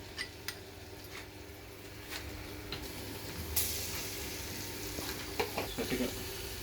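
Garlic frying in oil in a pan, steady sizzle with a soft continuous hiss, a few clinks and stirring scrapes scattered through, no talking.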